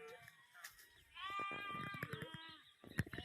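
Goats bleat on a hillside as herders head home, a close, wavering bleat followed by a longer quavering cry, with rustling and faint background noise around them.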